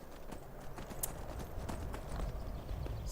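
Horse hooves clip-clopping in an Elder Scrolls video game, a steady rhythmic trot of close, moderately loud hoofbeats, alone and with no voices.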